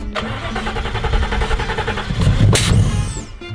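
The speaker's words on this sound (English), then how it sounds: "Get in there, start it. It's gonna fire right up now." A V8 engine fitted in a Volkswagen Beetle cranks with a rapid rhythmic starter chatter, then catches and roars loudly up close before settling briefly.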